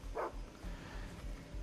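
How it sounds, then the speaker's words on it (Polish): A single short dog bark sounds in the video game Far Cry 3, quiet and at mid distance over a low background hum, then nothing more follows. "O, mamy pieska, zaznaczmy go sobie."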